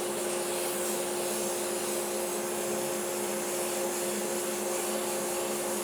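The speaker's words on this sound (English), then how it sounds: "after I've sanded with the lathe on, wipe the sawdust free" Sandpaper held against a wooden pen blank spinning on a lathe gives a steady, continuous hiss and whir, a constant hum running beneath it with no pauses and no talking.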